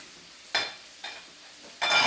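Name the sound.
shrimp and garlic sizzling in a screaming hot frying pan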